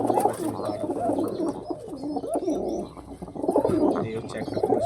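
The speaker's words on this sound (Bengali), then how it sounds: "এই হচ্ছে একটা তুলসিরা পায়রা," A Tulsira pigeon coos in soft repeated rolling phrases close by, with a few faint chirps in the background and no talk.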